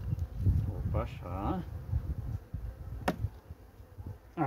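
Honeybees buzz in a low, continuous drone close by inside a hive while a person speaks over them, with a brief sharp click partway through.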